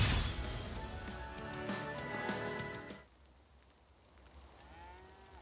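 A cow moos in the video game Tales of Arise, heard loud and near over busy battle music during the first three seconds, after which the sound drops to a quieter background.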